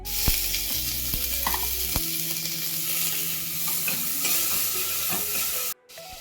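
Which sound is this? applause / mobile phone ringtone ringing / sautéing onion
sautéing onion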